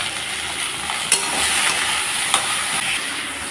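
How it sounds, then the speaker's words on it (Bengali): Okra frying in a pan with turmeric and salt, a steady close sizzle and hiss with a couple of sharp stirring clicks, no talking. "এদিকে আমি ভেন্ডি ভাজাটা কষিয়ে দিয়েছি।"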